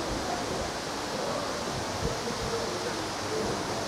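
Man-made waterfalls beside a cafe give off a steady, even rush of falling water, a dense broadband hiss that holds the same level throughout without pause.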